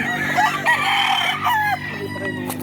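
Broodcock rooster crowing nearby, one loud drawn-out cock-a-doodle-doo followed by a shorter trailing call, with other fowl faintly audible behind.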